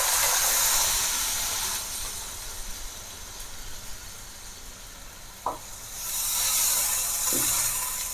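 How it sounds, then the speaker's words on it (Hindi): About two cups of water poured into chana daal frying with spices in a pan, a steady broadband sizzle and splash that swells at the start and again near the end, with a couple of brief clinks in between. "अब मैं इसमें तकरीबन 2 कप पानी ऐड कर दूंगी।"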